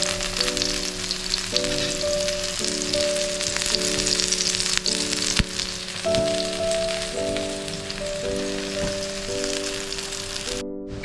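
Cabbage uttapam fries in oil in a pan on low heat, giving a steady close crackling sizzle throughout, with a faint tonal hum underneath.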